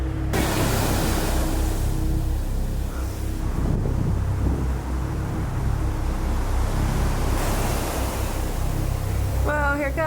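Huge ocean waves roar and crash on the shore at St. Croix in the Caribbean, a dense, steady rush of surf under heavy wind buffeting, with a brief voice near the end.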